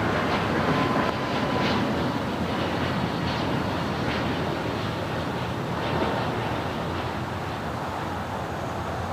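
A Boeing 737 MAX 8 airliner takes off at LAX, its jet engines producing a loud, sustained broadband roar that holds steady throughout with slight swells, no voices over it.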